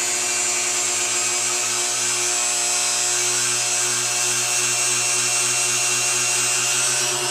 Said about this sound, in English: And listen to it wind up.